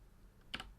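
A few quiet keystrokes on a computer keyboard, two quick close clicks over a low background hum.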